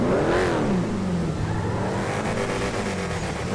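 A drag car engine in GTA FiveM revs hard and climbs in pitch, then settles into a sustained, loud roar as the car pulls away, with no voices.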